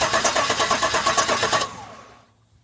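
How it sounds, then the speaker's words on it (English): A Chevy 5.3L truck engine is cranked by jumping the starter: a rapid, even starter whir with rhythmic pulses for about a second and a half, then it cuts off and the sound decays into quiet, close and loud. "And I'm going to jump start the truck."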